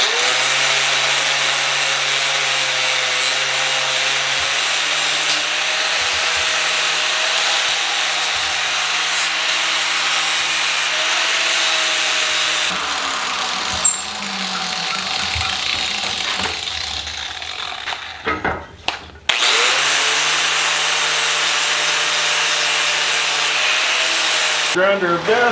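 A bench grinder shapes a round punch forged from a jackhammer bit, a loud steady whine and rasp that runs almost unbroken, dips briefly as the work shifts, then surges back at full strength.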